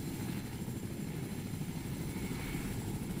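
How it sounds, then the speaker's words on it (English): Helicopter engine and rotor in Fortnite, a steady loud droning whir that holds evenly throughout with no speech over it. "We're going up to the skies to camp at max height with a helicopter."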